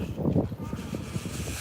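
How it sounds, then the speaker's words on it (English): Wind blows outdoors on a cold Friday evening in Washington DC, gusting and buffeting the microphone in uneven, rumbling bursts close up. "So windy."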